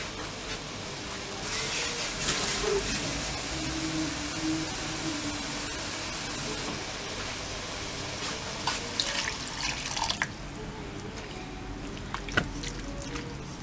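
Water is poured from a tap into a pan of shakshuka sauce made with chopped tomatoes and their juices, a steady, fairly loud splashing stream running for several seconds before tapering to trickles and drips.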